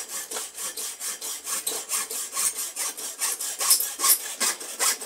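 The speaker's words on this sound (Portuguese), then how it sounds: "Passo a pontinha dela no 2000 ou na lixadeira." The tip of a handmade ionic rod is rubbed with 2000-grit sandpaper in steady back-and-forth strokes, a dry rhythmic rasping repeated about twice a second, close and alone.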